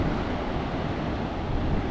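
Ocean waves three to four metres high breaking at Uluwatu, Bali, heard as a dense, continuous roar of surf with a steady wash and no voices.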